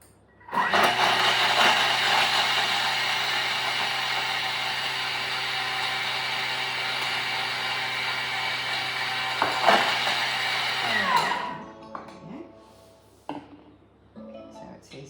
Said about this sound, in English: we're going to mill the orange zest and flour together for 10 seconds at speed 9